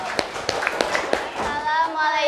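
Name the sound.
classroom applause for group B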